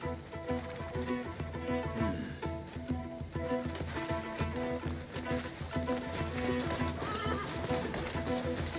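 A mare neighs and whinnies in the video game Crimson Desert amid hoof clip-clops and a busy game soundscape with music, the horse sounds recurring throughout at moderate loudness.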